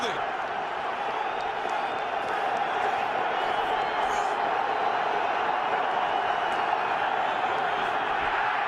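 A packed football stadium crowd roars steadily during a 2010 Giants versus Redskins game, a dense, continuous wash of cheering with an announcer talking over it.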